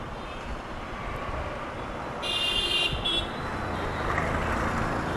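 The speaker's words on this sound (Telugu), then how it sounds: "ఫుల్ ట్రాఫిక్ జామ్ అయిపోయింది" Traffic stands jammed near a railway bridge after an accident: a continuous broadband road roar from idling and creeping vehicles, with a high electronic beeping tone rising briefly in the middle and no talk.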